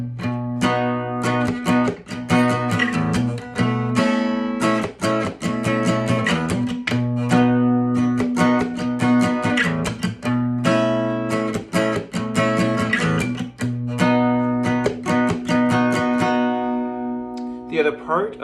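Acoustic guitar playing the verse of a song, with rhythmic strummed chords and bass-note hits in a steady groove, close and clear with no voice.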